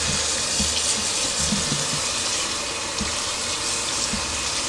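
Water rushing steadily into a washing machine loaded with freshly tie-dyed clothes, a continuous broadband gushing hiss that stays constant and fairly loud with no voices over it.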